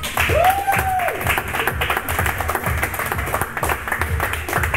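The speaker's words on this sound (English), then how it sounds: "Please have a quick round of applause for the two fighters," A live audience at a fighting event gives a quick round of applause for the two fighters, a steady patter of clapping that fills the whole stretch at moderate volume, with a brief tonal sweep near the start.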